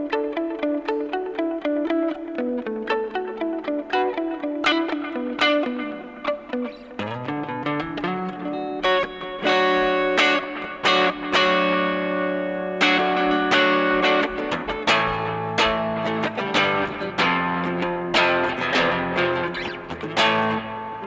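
Electric guitar playing a melodic line through a Zoom 70CDR tape delay, each note trailing soft repeating echoes, steady and clear with no talking.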